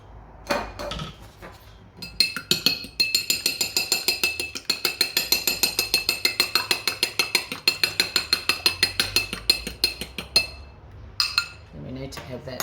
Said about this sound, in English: We just need to beat our egg.